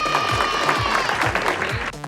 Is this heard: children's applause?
yes